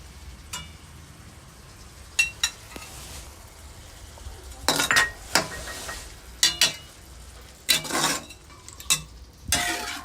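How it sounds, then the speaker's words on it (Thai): Stir-frying in a pan with Maggi seasoning and oyster sauce, with irregular scraping strokes and clinks of a utensil against the pan over a quiet background sizzle, close and loud in bursts. "ผัดให้เข้ากันนะคะ"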